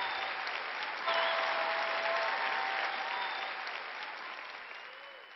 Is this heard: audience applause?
yes